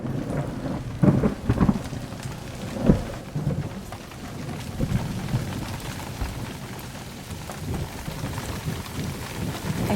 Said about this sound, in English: it's raining and there's thunder. And yeah, it's been a major thunderstorm all night.